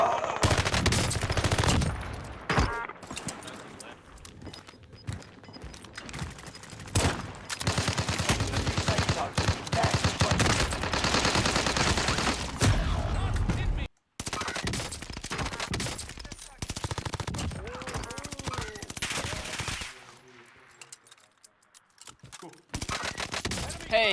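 Rapid bursts of gunfire from an online shooter video game, loud and dense automatic volleys broken by short pauses, with a voice talking over parts of it.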